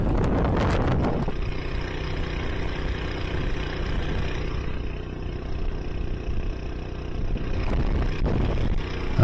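A 4HP four-stroke jet pump outboard motor runs on open water below full throttle, a steady mid-pitched engine drone under gusty wind buffeting the microphone.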